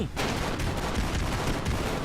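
Explosions and gunfire from The Expendabros video game roar densely and continuously, a loud wall of rapid blasts and shots rumbling without pause.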